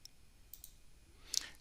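Computer mouse clicking in ALM project management software, a few faint light clicks, the sharpest one near the end, in a quiet room.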